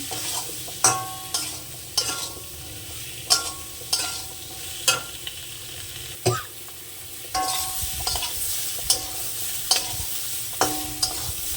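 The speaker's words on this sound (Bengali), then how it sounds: "মতন হলুদ দিয়ে দিলাম আবার একটু কষে নেব তরকারিটা" Singi fish curry with turmeric is stir-fried in a pan: a steady soft sizzle under regular, sharp spatula scrapes and clinks every second or so.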